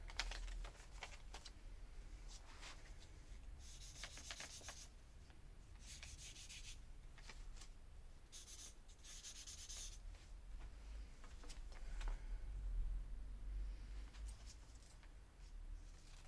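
Paper pattern for a man's traditional powwow outfit folded twice by hand, with soft papery rubs and crinkles in bursts over a steady low hum, fairly quiet and close.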